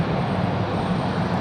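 A CRJ regional jet taxiing at Raleigh-Durham International Airport, a steady broadband engine rumble and whine holding at constant level throughout, with no voices.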